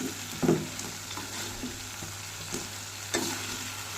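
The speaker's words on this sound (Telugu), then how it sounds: "చికెన్ని ఇలా హై ఫ్లేమ్లో టాస్ చేసుకోవాలండి" Chicken manchurian is tossed in sauce in a pan over a high flame, giving a steady sizzle with periodic scraping and clattering bursts as the pieces are stirred, close and continuous with no voices.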